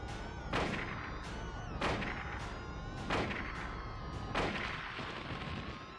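Gunshots from the PlayStation game Silent Hill, four or five evenly spaced sharp blasts over a constant buzzing, droning background hum, moderately loud with no voices.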